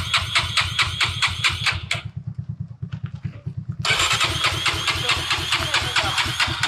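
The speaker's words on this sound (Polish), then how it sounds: "ale motor nie chce się szykować z nim." Motorcycle engine struggling to start: rapid cranking pulses, a brief catch and stumble, then the starter grinding on again, loud and close.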